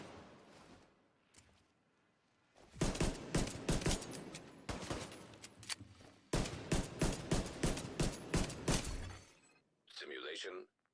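Rapid pistol fire in The Division 2, dense loud bursts of shots in two long volleys with brief gaps, followed by a short electronic tone, while a voice talks over the start.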